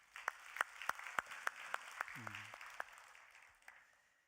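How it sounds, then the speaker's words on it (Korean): A church congregation claps in a slow, even, unison rhythm, each clap distinct and roughly evenly spaced, with a brief voice partway through; the clapping thins out and fades toward the end. "우리 박수 한번 보내주세요."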